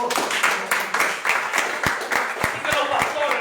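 A church congregation claps hands together in a loud, steady rhythmic beat, with a preacher's voice speaking over the clapping.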